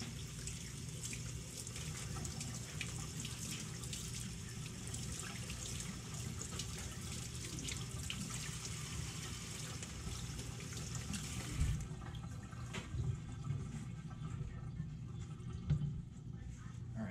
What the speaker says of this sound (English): And then we're going to go ahead and rinse the fish off.